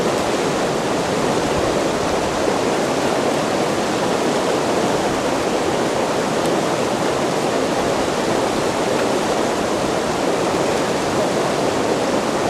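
A strong, ice-cold mountain stream on the Pacific Crest Trail near Mt Whitney, heard as a dense, constant rushing roar, close and loud, holding steady throughout with no voices.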